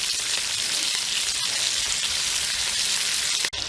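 A steak frying with butter in a cast iron skillet, a loud, continuous close-up sizzle and crackle with an even spitting texture and no break except one brief dip near the end.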